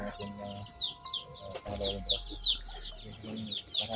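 Chickens cluck in short repeated bursts, fairly faint, over a low hum and scattered background noise.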